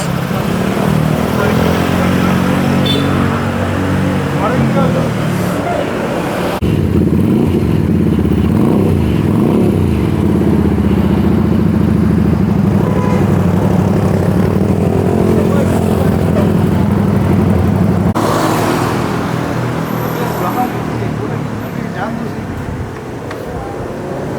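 A Harley-Davidson motorcycle engine idles and revs with a rough, rumbling drone throughout, close by, with people talking faintly over it.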